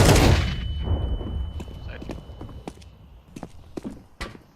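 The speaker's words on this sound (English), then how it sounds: "Throwing a flashbang." A flashbang grenade goes off in a tactical shooter game, opening with a loud burst that fades into a run of sharp, scattered cracks and clicks.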